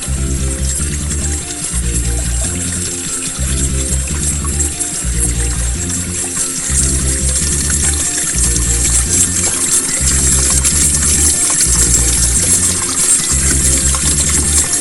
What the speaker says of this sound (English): the water's still running anyway.